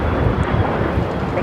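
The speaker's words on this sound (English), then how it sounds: "You're looking at Air Premia, a Dreamliner taking off there on the north side," An Air Premia Boeing Dreamliner jet takes off from the north side of LAX, heard as a loud, steady broadband engine roar with wind noise and no other sounds.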